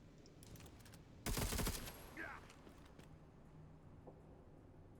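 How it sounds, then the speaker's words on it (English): Gunfire in the Necromunda: Underhive Wars video game: a loud, dense burst of rapid shots lasting about half a second, standing well above a quiet background hum and a few faint clicks. "So I can definitely get some shots off on you."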